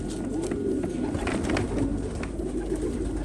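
Soft, low cooing of pigeons repeats steadily under a constant background hum, with no talking, at a pigeon auction.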